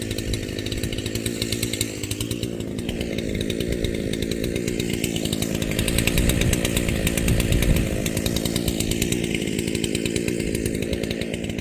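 Makita EA7900P chainsaw running a Husqvarna C83 chain on a Husqvarna X-Tough bar, cutting steadily through wood with a rough buzzing drone that rises slightly in load midway, close and loud, with no talking.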